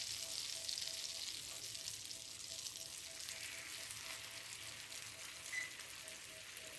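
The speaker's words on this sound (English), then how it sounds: "I'm using my spatula to put them down in that hot butter." Crab cakes fry in hot butter in a pan over medium to medium-high heat, giving a soft, steady sizzle and crackle that runs throughout without talk.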